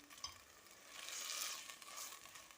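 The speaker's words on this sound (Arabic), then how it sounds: "لازم ديري هذه المرحله تقليه مليح" Rice frying in a pressure cooker pot: a steady, soft sizzle with faint crackling as the grains are stirred, close but quiet, with no talk.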